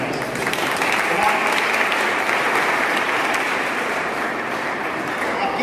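A large audience applauds steadily and loudly at a children's performance, a dense wash of clapping with no pauses.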